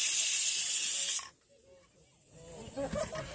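A pressure cooker on a camp stove near a lake lets out a loud, high steam hiss for about a second, which cuts off abruptly and gives way to quieter background sounds.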